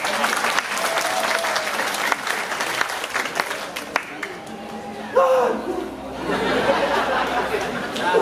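Audience applause fills a classical arja performance from a Tabanan troupe at the Bali Arts Festival, steady dense clapping with crowd chatter throughout, briefly dipping mid-way before swelling again.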